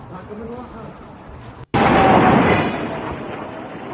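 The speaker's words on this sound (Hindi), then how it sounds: "और आसमान में जो धमाका होता है, इसका मतलब कि आसमान में रॉकेट को या फिर छोटे जो मिसाइल हैं उन्हें वो नष्ट" A loud explosion in the sky as an interceptor missile destroys a rocket erupts suddenly after a brief cut, a sustained roaring burst that slowly fades, following a stretch of background rumble.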